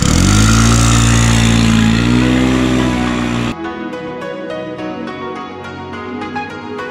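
Scooter engine droning loudly while riding along a panoramic road near Torre Ciana, a steady buzzing run that cuts off halfway and gives way to quieter, clicky ambient noise.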